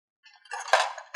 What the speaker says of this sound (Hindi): चलो उठाओ ये सारे बर्तन।